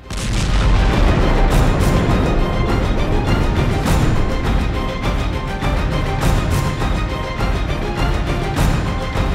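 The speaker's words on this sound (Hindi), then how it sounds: "आईडीएफ ने सुरंग को नष्ट करने के लिए 100 टन से भी अधिक बारूद का इस्तेमाल किया।" Massive tunnel demolition blast using over 100 tons of explosives, a loud, continuous roar of rumbling booms and cracking bursts rolling on without pause for the whole stretch, with no voices.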